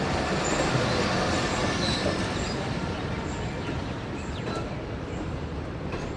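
Long train coaches roll slowly along a station platform, a steady loud rumble of wheels with faint squeals and clicks of the rail joints throughout, a passenger train between Karachi and Lahore.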